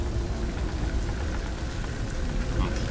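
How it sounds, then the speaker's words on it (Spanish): Steady rain in the video game Beyond Two Souls, a dense, continuous patter with a low rumbling undertone, moderately loud and unbroken. "Dichosa lluvia"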